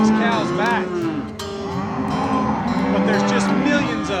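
Beef cattle on a hot Low Country farm pasture during a horn fly infestation, mooing loudly and continuously, with several overlapping drawn-out calls close by and a steady outdoor background.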